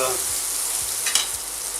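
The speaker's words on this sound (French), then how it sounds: "Et maintenant, je vais faire cuire ça tranquillement avec le lait." Andouillette simmering gently in a pan with milk, a soft, steady sizzle and bubbling that stays even throughout, close and moderately loud with no talk.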